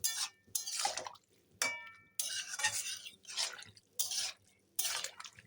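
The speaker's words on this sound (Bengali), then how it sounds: "এখন ভালো করে নেড়ে নেই" A pot of Malabar spinach curry with added water being stirred, giving quiet, close bursts of wet scraping and sloshing that come and go in short strokes separated by brief pauses.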